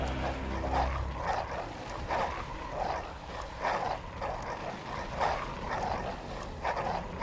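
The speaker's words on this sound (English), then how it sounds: "I just gotta wait for the dogs to lose interest." Dogs in the dark fantasy video game Bloodborne, inside Hypogaean Gaol, give repeated muffled barks and yelps at a distance, rising and falling over a low game ambience.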